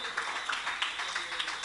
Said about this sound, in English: Round of applause for Constable Tisha Grimes Mingo,